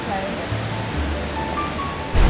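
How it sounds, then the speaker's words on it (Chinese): A powerful waterfall at Annapurna Base Camp in the Himalaya roars as a dense, steady rush of water that fills the whole moment, with a voice faintly present beneath it. "你看 ABC 這裡的瀑布多磅礴。"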